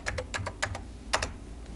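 Quick bursts of keystrokes on a computer keyboard, about eight close, crisp taps in under two seconds, with a brief pause before a final pair, heard alone in a quiet room.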